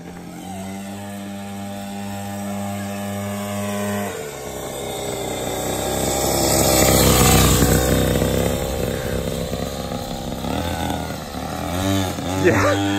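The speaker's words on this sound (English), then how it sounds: "It's like a little stunt bike." A small stunt bike engine runs with a steady droning hum that shifts and rises as it revs, while voices talk over it.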